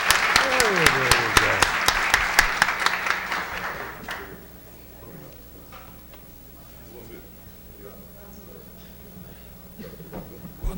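Audience applause at a formal solemn session in a legislative chamber, a dense burst of clapping for about four seconds that quickly fades, followed by quieter room noise with scattered sounds.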